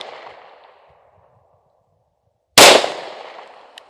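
A single pistol shot at a target rings out sharp and loud after a quiet stretch, its echo fading over the next second; a fainter tail of a previous report decays at the start.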